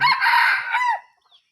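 A released wild junglefowl near a house gives a single loud, close crow that fades out, with no talk over it.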